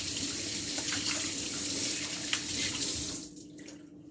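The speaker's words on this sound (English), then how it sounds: "Just gonna wash my hands for a little bit." Hands washed under a running kitchen tap, a steady splashing gush of water that cuts off near the end to quieter drips, close and without talk.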